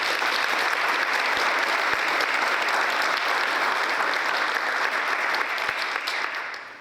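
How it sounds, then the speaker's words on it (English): Steady applause from an audience at a school board meeting, a dense sustained patter of many hands clapping at even volume for nearly seven seconds, thinning slightly at the very end. "Let's give them a round of applause."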